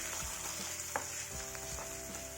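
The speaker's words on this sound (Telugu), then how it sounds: "ఒక 2 మినిట్స్లో ఇలా మగ్గుతున్నాయి కదా." Stuffed brinjals softening in a pan of frying gutti vakaya curry, giving a steady low sizzle with faint stirring and spoon taps scattered through, close and moderately quiet, no talking.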